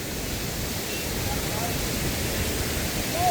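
Loud, steady rush of a river during a forest river crossing on a monsoon trip in Chikmagalur, a dense continuous roar filling the clip with no break.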